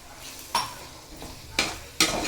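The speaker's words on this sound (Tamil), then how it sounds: "கொஞ்சம் நேரம் கிளறணும் பாருங்கள் இப்படி" A curd gravy is stirred in a pan, several distinct scraping strokes of a spoon over a soft simmering sizzle, close and moderately loud.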